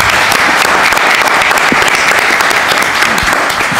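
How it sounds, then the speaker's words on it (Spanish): An audience at a book presentation applauds loudly and steadily throughout, a dense wash of clapping with no break and no one talking over it. "un aplauso para él."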